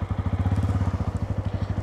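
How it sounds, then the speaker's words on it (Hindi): A Bajaj Pulsar N160 motorcycle idles close to the microphone at the exhaust, giving a steady, fast, even thumping pulse throughout, loud and alone. "अब हम लोग इसका एग्जॉस्ट नोट सुनते हैं"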